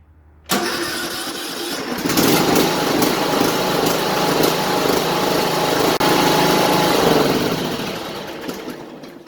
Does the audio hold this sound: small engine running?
yes